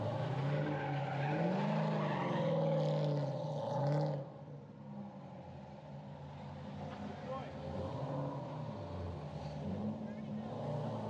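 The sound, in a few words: car drifting with tires skidding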